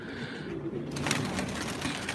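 Racing pigeons from a loft flock cooing, soft low throaty coos close by, with a brief rustle and background chatter of other birds.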